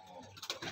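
Pigeons coo softly in a brief, faint burst close by, with a low murmur of ambient noise beneath.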